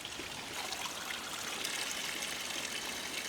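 Spring water trickles steadily into a container in a mountain forest as Stanislav collects it, a continuous close, bright hiss with no pauses.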